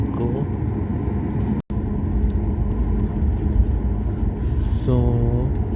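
An Air India airliner taxis toward the main runway, and its engines make a constant loud rumbling drone. A brief dropout comes partway through, and a rising whine follows near the end.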